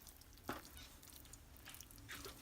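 Food that has simmered in a pot is stirred, with a faint soft sizzle running throughout and a few quiet scraping strokes of the spoon, no talking.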